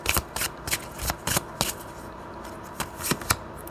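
Tarot cards being shuffled by hand, several quick papery riffles and flicks in bursts, close and fairly soft, with brief pauses between.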